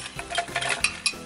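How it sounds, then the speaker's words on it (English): Chiles and garlic sizzle in a pan on a vegan burrito cooking setup, a steady close hiss broken by a few sharp stirring clinks from a utensil, with no talking. "You hear that sizzling? We got the chiles and the garlic."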